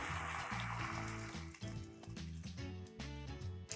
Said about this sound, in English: In this case, I'm adding in water.